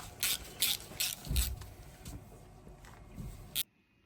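A clutch part on a Kawasaki KMX 125 two-stroke motorcycle is tightened with a ratcheting tool, giving a close series of rhythmic clicks and metallic scraping that stops abruptly.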